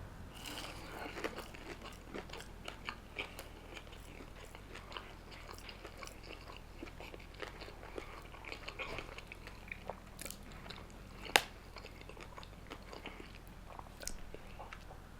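Crunchy bites and steady chewing on a Halal Guys honey sriracha falafel, close and quiet, with small crisp cracks scattered through and one sharper crunch near the end; no talking.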